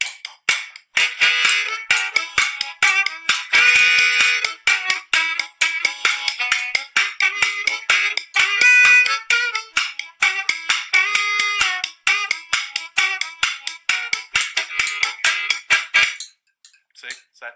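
Harmonica played in a rhythmic pattern that accents beats 2 and 4, with fast repeated breathy chugs and chords, loud and close, heard alone.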